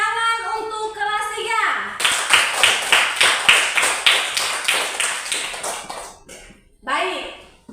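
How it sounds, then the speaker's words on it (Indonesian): Schoolchildren in a classroom clap their hands in a brisk, even rhythm of about a dozen claps. A voice comes just before and a few more voices follow once the clapping stops. "Tepuk tangan untuk kelas"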